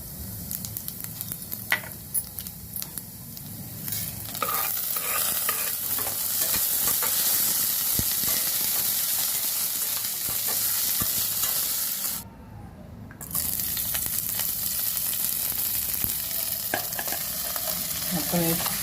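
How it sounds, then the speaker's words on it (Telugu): Green chillies fry in a pan for Andhra-style cabbage chutney with a constant close sizzle and crackle, stirred with repeated scraping and clattering strokes, briefly dropping out once midway, no voices. "పచ్చిమిర్చి స్టవ్ అంటిస్తున్నాను. బాగా కలపాలండి, లేదంటే మాడిపోతాయి."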